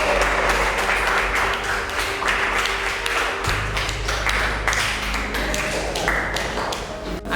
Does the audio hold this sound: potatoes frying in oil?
no